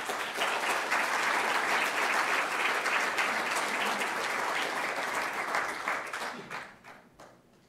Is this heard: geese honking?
no